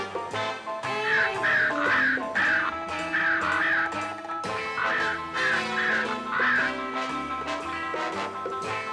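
A cartoon bird caws repeatedly in rhythmic pairs of harsh calls, over busy orchestral music.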